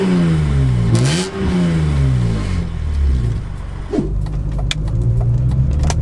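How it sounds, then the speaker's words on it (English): A high-mileage BMW M3 with an SMG gearbox pulls away in auto mode, its engine revving loud and close as it climbs up through first gear, dips briefly at the shift and pulls on into second. "Pulling away in auto mode, up to second gear."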